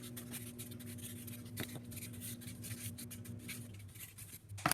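Felt-tip marker scribbling across paper while coloring in an abstract weaving design, a steady close scratchy rubbing that runs throughout over a faint room hum, with a small tap near the end.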